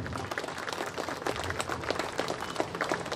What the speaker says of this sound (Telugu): మనమందరము కలిసి వారి కొరకు కరతాళ ధ్వనులతో చప్పట్లు కొడదాం.